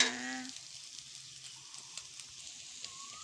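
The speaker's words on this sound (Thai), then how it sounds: "ทอดไข่ ทอดไข่นะคะ" Eggs fry in a hot pan for a simple Thai omelette, giving a faint, steady sizzling hiss after a brief voice at the start.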